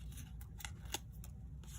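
Scissors snipping through card board while trimming around the border of dimensional stamped pieces: several quick, crisp close-up cuts at uneven intervals over a low steady hum, with no talking.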